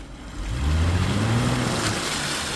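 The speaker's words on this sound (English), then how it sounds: "That wheel's spinning over there." A Jeep Rubicon sits stuck in mud, running in gear with one wheel spinning. The engine drones steadily and loud, with a low, rising tonal whine as the wheel churns without grip.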